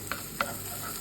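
Chopped garlic sizzles quietly in a pan for a mushroom omelette, a faint steady frying hiss broken by two small spatula scrapes.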